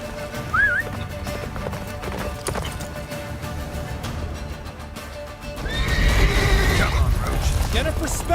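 A horse gallops in a video game with clip-clop hoofbeats and a whinny, while characters talk over it and game music and effects swell toward the end.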